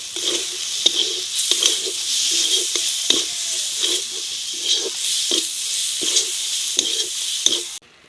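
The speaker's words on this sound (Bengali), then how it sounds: "এবার আমি ভালো করে নেড়ে নেব।" A spoon repeatedly scrapes and stirs Kashmiri chili powder through hot oil in a pan for stuffed pointed gourd curry, rhythmic scraping strokes over a continuous sizzle.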